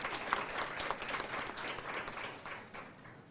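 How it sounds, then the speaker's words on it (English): Audience applause after a speech at a gathering, a steady wash of many hands clapping at moderate volume, fairly distant, easing slightly toward the end. "So let's give his office a big round of applause."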